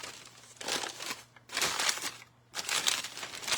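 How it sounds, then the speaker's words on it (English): Leftover Christmas wrapping paper crinkles loudly and close up in three long bursts as tape is pulled off it, with short quieter gaps between them. "I'm messing with paper, but just trying to get this tape off."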